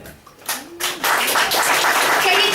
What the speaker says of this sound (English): get your clapping hands warmed up